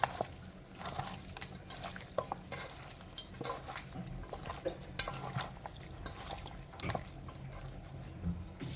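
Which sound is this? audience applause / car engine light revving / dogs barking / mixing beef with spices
mixing beef with spices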